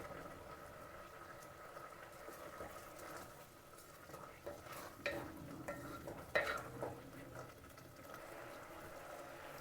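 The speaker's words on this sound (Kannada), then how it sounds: "ಒಂದು 2 ರಿಂದ 3 ನಿಮಿಷ ಚೆನ್ನಾಗಿ ಕುದಿಸ್ರಿ ನಿಮಗೆ." A pot of boiling toor dal mixture for holige filling bubbles and simmers quietly with a steady soft hiss, broken by a few faint clinks and stirring sounds.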